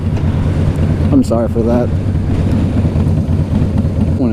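Strong sandstorm wind buffets a rider on a 2017 Harley Softail Slim near El Paso, Texas, a loud, constant rushing roar up close, with a voice briefly speaking over it.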